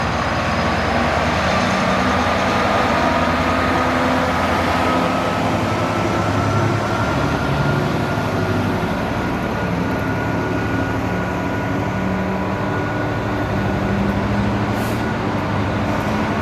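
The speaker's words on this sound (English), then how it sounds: "So it's a fully loaded stone train," A fully loaded stone freight train from a quarry rumbles past continuously, a loud, steady roar of wheels and wagons with a faint high whine running through it.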